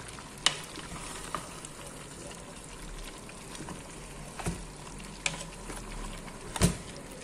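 Bottle gourd pieces dropped into a pan of browned beef curry give a low, steady sizzle, with a few soft clinks and stirring knocks rising above it.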